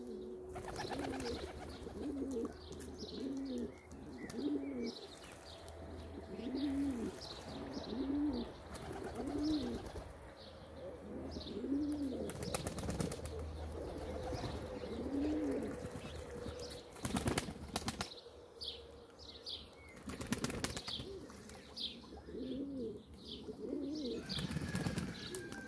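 Pigeons coo repeatedly in rhythmic, low, throaty phrases during their moulting season, with a few bursts of wing flapping and faint higher chirps in the background; no talking.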